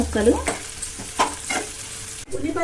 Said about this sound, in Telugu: ఆయిల్ వేడి చేసుకొని పచ్చిమిరపకాయ ముక్కలు, వెల్లుల్లి ముక్కలు, ఉల్లిపాయ